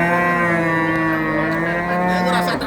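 A pregnant cow at a cattle market in Jatirogo lets out a loud, sustained moo close by, running nearly three seconds before breaking off.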